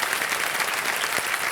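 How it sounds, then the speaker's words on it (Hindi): Studio audience on a TV quiz show breaking into a thick, continuous burst of applause, loud and close, with no voices over it. "एक बार जोरदार तालियां बजाने के लिए।"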